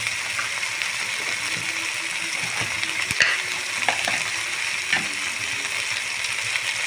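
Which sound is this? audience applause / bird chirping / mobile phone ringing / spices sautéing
spices sautéing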